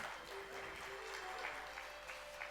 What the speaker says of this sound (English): I'd like to request all of you to please give her a big round of applause once again.